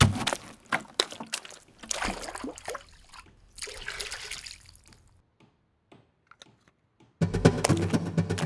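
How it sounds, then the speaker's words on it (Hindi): Water poured into a container in a home setting, heard as short trickling and splashing bursts near the mic, broken by a quiet stretch before a louder final pour. "जरा इसमें पानी डालना"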